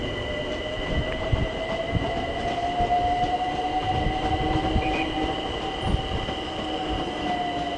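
A London Overground train at Clapham Junction rumbles past with steady rail noise, a sustained wheel squeal and rhythmic track thumps, continuous and fairly close throughout.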